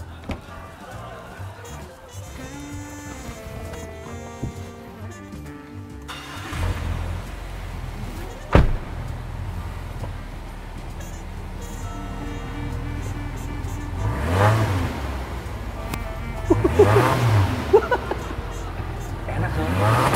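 A boxer car engine idles, then revs up in several loud bursts, rising and falling, with people talking over it.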